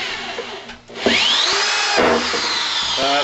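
A power drill whines as it drives screws into hardwood, the motor revving up and straining under steady load at close range, with no one talking.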